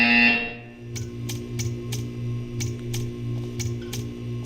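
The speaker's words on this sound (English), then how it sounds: "When you hear the buzzer, stare at the art." A testing-chamber buzzer in the game Portal 2 gives a string of short, sharp electronic pulses in an uneven rhythm over a steady low hum, heard just after a brief electronic tone and without any voice.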